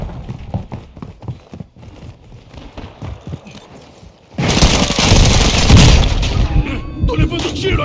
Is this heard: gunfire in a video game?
yes